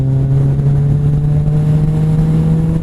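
Kawasaki Z1000 motorcycle engine pulling hard under acceleration, a steady loud droning tone holding throughout with wind rush, recorded from the rider's position.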